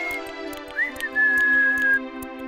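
A tin man from a cartoon story whistles while oiling himself: a bright, clear whistled melody with rising slides and one long held note, heard alone over soft background music.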